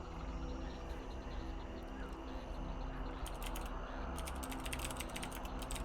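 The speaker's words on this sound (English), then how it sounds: "Aggressive typing." Keyboard keys hit hard and fast in a quick clattering burst of clicks that starts midway through, over a steady background hum, with some faint talking around it.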